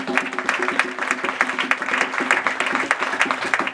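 A church congregation claps in a lively, rhythmic burst of applause, dense and fairly close, with voices and a few cheers mixed in.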